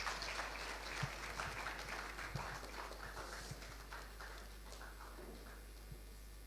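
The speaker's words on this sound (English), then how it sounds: "a round of applause for him." An audience at a presidential entrepreneurs' pitch event applauds with dense, sustained clapping that stays loud and steady throughout, over a constant low hum, with heavier thumps mixed in.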